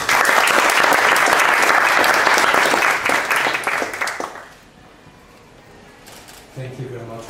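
An audience at a University of South Australia EU Day event gives loud, sustained applause that welcomes a speaker, then fades out after about four seconds. A voice follows near the end.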